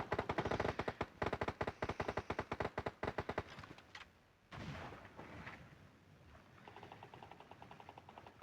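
Rapid automatic gunfire in the mobile battle royale game PUBG Mobile, a dense burst of close, loud shots for about three seconds, then scattered shots and game ambience.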